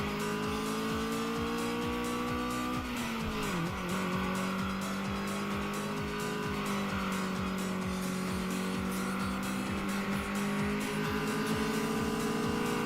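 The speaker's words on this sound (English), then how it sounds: "Her engine's so much louder than mine that I can barely hear my car rev" Race car engines rev loudly in the video game Redline Reverie on a mountain pass, a sustained high whine rising and falling in pitch as a rival's louder engine overlaps, with no talk.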